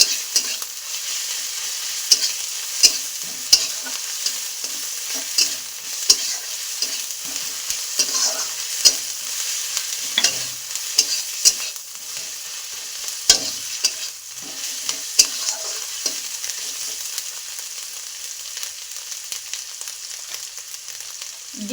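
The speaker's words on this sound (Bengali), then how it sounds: "দিয়ে দেব আদা রসুন বাটা" Browned onions with ginger-garlic paste fry in hot oil, a continuous close sizzle punctuated by frequent spatula scrapes and taps against the pan as the mixture is stirred, with no talking.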